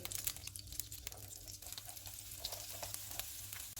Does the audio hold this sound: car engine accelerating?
no